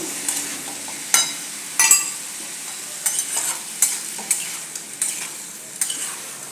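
Cut potatoes stirred in a frying pan with spices, a spatula scraping in repeated quick strokes about once a second over a soft sizzle, close and clear with no talking.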